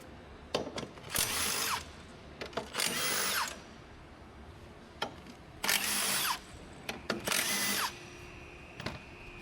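A power tool drives out the bolts of a metal brace on a 2022 BMW 228i, giving four loud whirring bursts of about a second each, separated by clicks and handling noises.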